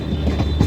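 The Garib Rath express from Muzaffarpur to Delhi rumbles along the rails, a steady, loud, close rolling roar with faint wheel clatter and no voices.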